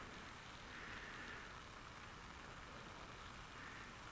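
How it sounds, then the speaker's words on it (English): Steady rain falling during a motorcycle ride, a continuous broadband hiss that stays even and fairly quiet throughout with no talking. "Oh no, it's raining."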